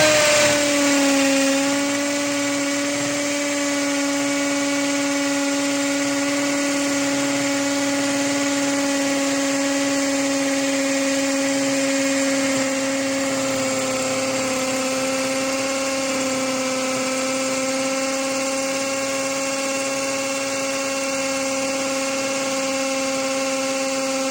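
Hammer drill running in hammer mode with a Chinese-made masonry bit boring into a wall, a loud continuous motor whine with strong steady tones and a slight pitch dip at the start, sustained without pause.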